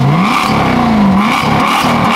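A Maserati GranTurismo MC with a Larini X-pipe exhaust revs up close, climbing and falling in loud throaty bursts with no talking over it.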